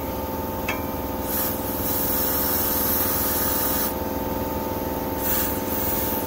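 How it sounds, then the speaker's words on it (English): A can of lubricant sprays in a long hiss onto the rusty top of a stuck PTO pulley, with a second burst following, under the steady drone of an engine nearby. "we're gonna go ahead and spray the top here again with lube"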